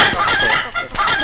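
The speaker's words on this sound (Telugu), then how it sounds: "అది మీ షెడ్ లో కోళ్ళు అరుస్తున్నాయి" Chickens clucking in a shed, a loud, close flurry of squawks and clucks from several birds in quick succession.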